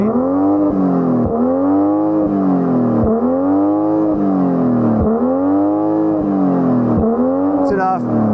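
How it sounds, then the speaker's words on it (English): A car's 6-cylinder engine revs repeatedly while standing still, about seven loud, even throttle blips in a steady rhythm, each climbing and falling back. A crackle comes near the end. "So go on, rev it up"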